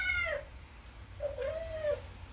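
A cat meows twice, played back through an Alexa smart speaker, each call drawn out and sliding in pitch, mid-loud over a low background hum with no talking.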